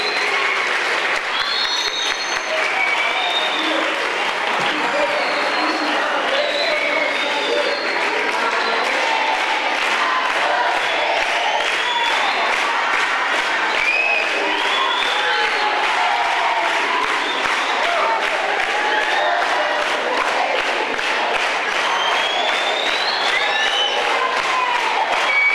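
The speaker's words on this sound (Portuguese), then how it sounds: "Com muita empolgação e palmas, os alunos receberam o apresentador no teatro da escola." Students in a school theater applaud and cheer with great enthusiasm, a dense, loud, continuous wash of clapping with whoops and crowd voices rising throughout the long stretch.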